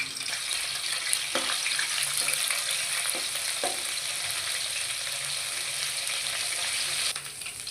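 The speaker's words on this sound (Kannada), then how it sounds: "ಈ ಜಜ್ಜಿ ಇಟ್ಟಿರುವಂಥ ಹಸಿಮೆಣಸಿನ್ಕಾಯಿ ಹಾಕ್ತಾ ಇದ್ದೀನಿ" Crushed green chillies fry in hot oil for chilli chicken, a constant close sizzle with a few sharp pops and clicks of the pan near the start, and no talking.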